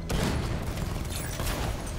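Dense, continuous rattle of rapid machine-gun fire mixed with heavier booming cannon shots in the video game Batman: Arkham Knight, steady and fairly loud throughout with no talking.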